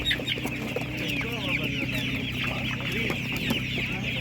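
Laying hens cluck steadily at a livestock market in Otynia, a busy stream of overlapping clucks close by over a constant background hum.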